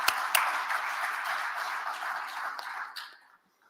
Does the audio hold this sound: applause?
yes